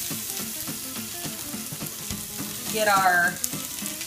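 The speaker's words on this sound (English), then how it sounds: "It's time for us to go ahead and add our vegetables to our heated up oil." Celery, onions and other jambalaya vegetables sizzle after being added to heated olive oil. A steady frying hiss swells into a louder burst near the end, under brief talk.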